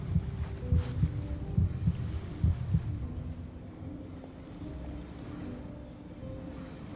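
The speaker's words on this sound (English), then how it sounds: "Why am I getting heartbeat?" Heartbeat effect in the video game Genshin Impact, a muffled low double thump repeating steadily for a few beats over a dark ambient hum, then fading into the drone.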